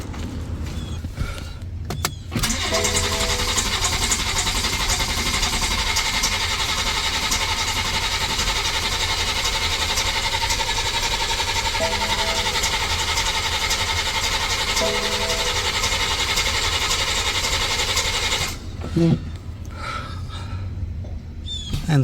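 BMW B58 engine cranking over on the starter with ignition and injectors disconnected, a steady mechanical whir lasting about sixteen seconds without firing, close and even, then stopping abruptly.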